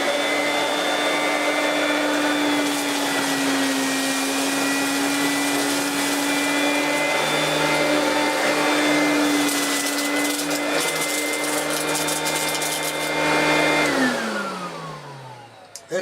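A Vorwerk vacuum cleaner running with its ET31 power head, a loud steady motor whine and hum with brushing noise over carpet, close, winding down in pitch as it switches off at the end.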